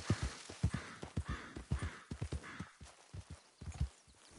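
Hoofsteps from a ridden horse in Red Dead Redemption 2 thud in a steady walking rhythm, close and distinct, with faint breathy snorts between the footfalls.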